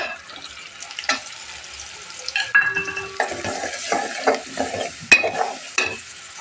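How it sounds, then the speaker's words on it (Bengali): Ground spices with garlic, turmeric, coriander and chili powder stir-fried in oil, a close sizzle broken by rhythmic scraping strokes of a spatula against the pan, fairly loud and steady. "এখন আমি মশলাটাকে ভালো করে কষিয়ে নিই"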